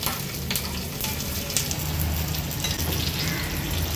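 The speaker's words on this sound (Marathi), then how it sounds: "तयार झालेली ही फोडणी ह्या पोह्यांवर आपण ओतून घेऊया" Hot phodni tempering poured over flattened poha for Maharashtrian dadpe pohe, producing a loud, continuous crackling sizzle close by, with no voices.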